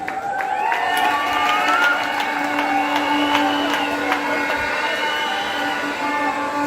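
Graduation ceremony audience at Université Notre-Dame du Kasayi cheering and applauding a new master's graduate, a steady, dense crowd roar with shouts and whistles over a sustained low hum throughout.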